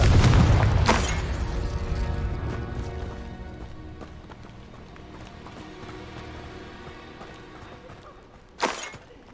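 A Confringo spell explosion in the video game Hogwarts Legacy: a loud, deep blast opens and decays into a rumbling tail, followed by a sharp second burst near the end.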